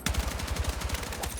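A no-bloom gun in Battlefield 6 fires a rapid, steady automatic burst, each shot punching through in an even rhythm, loud and close throughout.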